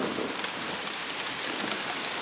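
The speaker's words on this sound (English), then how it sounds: "Those are big fat raindrops and the camera just took a lot." Heavy rain patters and splashes at night during a thunderstorm, big drops striking the camera in a dense, continuous hiss with no voices.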